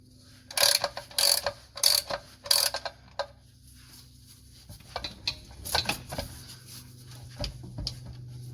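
Ratchet wrench tightening bolts on a VE Commodore transmission in a home shed or driveway: several loud, close bursts of rapid clicking early on, then softer scattered clicks and clunks of metal work.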